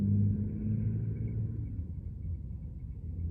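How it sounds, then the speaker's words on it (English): A loud truck rumbles past nearby, its deep, steady engine roar filling the whole stretch with little change. "It's another loud truck."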